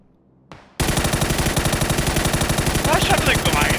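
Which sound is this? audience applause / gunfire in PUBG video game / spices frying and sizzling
gunfire in PUBG video game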